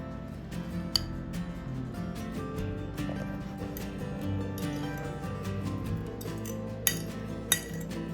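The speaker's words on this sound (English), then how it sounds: "Blend it all together. Mix it all in." A utensil works softened cream cheese for a Christmas cheese ball in a bowl, giving a quiet, steady scraping and mixing texture punctuated by a few sharp clinks of metal against the dish, without talking.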